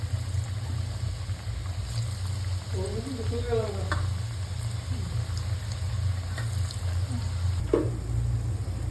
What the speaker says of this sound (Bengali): মাংস পিঠাগুলো ভাজতেছে